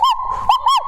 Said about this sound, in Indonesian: ia menggonggong terus-terusan kepada orang tuanya